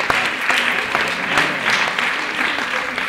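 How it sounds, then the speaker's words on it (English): An audience at a mental calculation show applauds, a dense, sustained burst of clapping from many hands that stays loud and even for the whole few seconds. "give them a round of applause."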